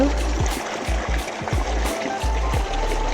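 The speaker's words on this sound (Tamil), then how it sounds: "அது உள்ளேருந்து தான் தண்ணி வந்துகிட்டே இருந்துச்சு" Water flowing steadily from a natural spring at a hidden spot in Oman, a continuous close trickle and gurgle with low rumbling bumps, no voices.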